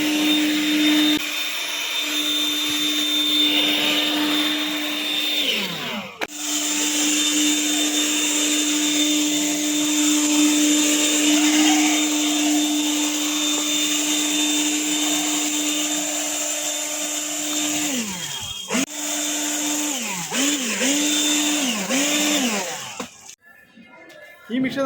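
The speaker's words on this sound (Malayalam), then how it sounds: "നമുക്ക് ഈ മെഷീൻ ഒന്ന് വർക്ക് ചെയ്ത് കാണാം." A leaf blower machine runs at a loud, steady whine that fills the space, shuts off briefly twice, then revs in quick pulses before cutting out near the end, with someone talking over it.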